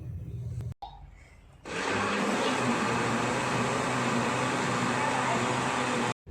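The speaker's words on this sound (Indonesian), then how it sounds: "Terakhir tuangkan alkohol, lalu nyalakan blendernya." Blender mixing homemade hand sanitizer ingredients with alcohol, starting up after a quiet moment into a loud steady whirring roar that runs for several seconds before cutting off.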